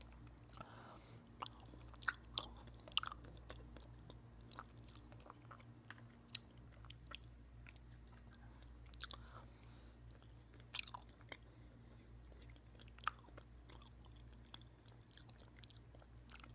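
Gelato being eaten close to the microphone, with soft, intermittent wet chewing, lip smacks and mouth clicks over a quiet low hum, faint and sparse throughout.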